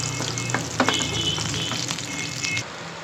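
Leafy greens and shrimp paste fry in a pan with a loud, close, steady sizzle and occasional stirring clatter, then settle a little softer near the end.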